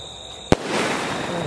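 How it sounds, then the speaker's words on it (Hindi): A Chima Sky Shot yellow Diwali firecracker goes off with one sharp, loud crack, followed by a hissing, crackling spray that lingers briefly outdoors. "अब बारी है चीमा के स्काई शॉट की, कलर इसका येलो है, देखते हैं कैसा इफेक्ट देखने को मिलता है।"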